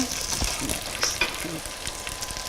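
Turmeric powder hits a hot pan with a soft, steady sizzle and crackle while a spoon stirs and scrapes now and then, cooking for a mealie rice kitchari.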